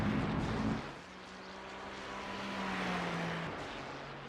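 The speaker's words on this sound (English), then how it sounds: "Ferrari there is getting a little bit of engine cut" A Ferrari GT race car in a sim racing game at Phillip Island, its engine note holding a steady tone that drops out around one second in, then a sustained engine drone that fades near the end, moderately loud and with no talk.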